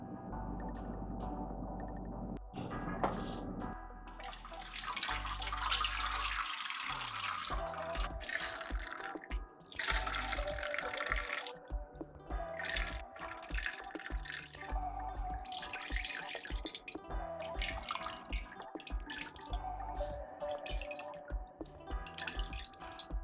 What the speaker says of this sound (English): hold the bag and just start pour